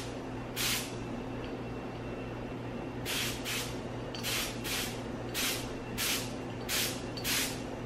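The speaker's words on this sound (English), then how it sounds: "All right, now it's spraying product." Car coating product sprayed from a sprayer onto a Tesla Model S 100D panel: about nine short, sharp hissing bursts, one near the start and then a rapid run of spurts over steady low background hum.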